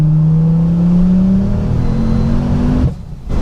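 A Ford Focus ST tuned to about 600 bhp pulls hard in third gear, its loud engine tone rising steadily from inside the car before it cuts off sharply near the end.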